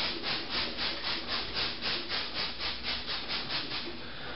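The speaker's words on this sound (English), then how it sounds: "I'm going to have to use the soft scrub" Soft Scrub cleanser being scrubbed across a fridge surface, a steady back-and-forth rubbing with about a dozen even strokes, close and fairly loud with no talking.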